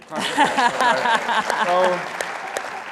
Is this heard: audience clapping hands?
yes